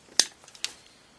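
Two sharp snips from cutters clipping the brake pad wear indicators off on a rear brake job for an Abarth 500 Esseesse, close and crisp with a short gap between cuts in a quiet setting.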